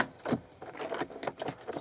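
A model railway BR Mk1 second class coach couples to a tank engine, giving a short run of light, close metallic clicks and rattles with small irregular taps.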